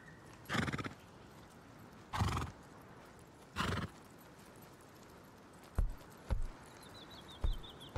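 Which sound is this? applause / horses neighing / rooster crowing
horses neighing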